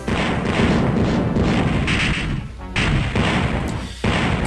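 Laser cannon fire and explosions in the TIE Fighter space combat game destroying a target, loud dense crashing blasts with brief gaps, close and harsh.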